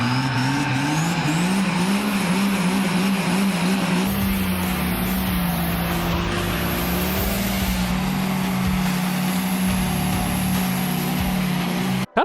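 Project car revving hard while spinning and shredding its tires, a loud continuous engine roar with squealing tires and shifting pitch, close and sustained throughout with no voices.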